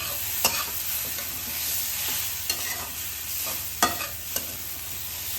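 Steamed patra rolls, made from colocasia leaves, being stir-fried with sesame seeds in a pan, giving a close, steady sizzle broken by several sharp scrapes and clinks of a spoon against the pan, with no talking.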